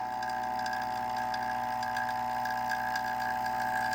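An Orion Motor Tech vacuum pump runs at a constant steady hum with a rapid mechanical chatter, unchanging and fairly close.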